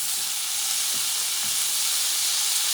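Butter sizzling in a hot pan beside a seared ribeye steak, a loud, steady crackle up close with a couple of faint knocks.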